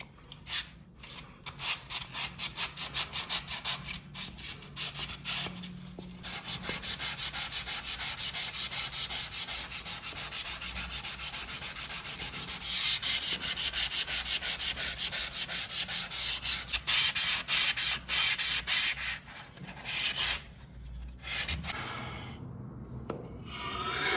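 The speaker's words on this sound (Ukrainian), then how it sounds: "То така маленька терка якраз для таких місць дуже добре підходить." A small hand sanding float rubs steadily across a wall being prepared for painting, a continuous close scraping rasp in repeated strokes, with brief pauses and no speech.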